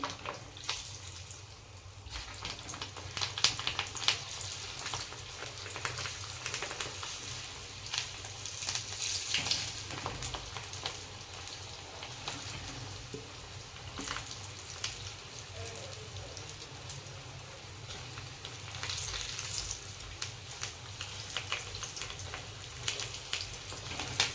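Farali bafvada potato fritters frying in a kadai of hot oil, a continuous crackling sizzle with bursts of bubbling that swell and fade, a voice speaking over it now and then.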